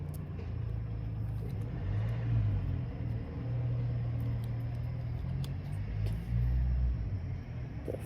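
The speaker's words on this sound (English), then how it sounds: "That's why it sounds like there's a car going," A car passes outside, heard indoors as a steady low rumble that swells and fades slightly over several seconds, with no voices.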